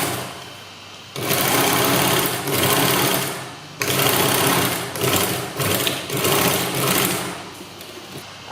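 A sewing machine stitches a pleated skirt in loud, rapid bursts of whirring, running in several long runs separated by short pauses, close up and alone.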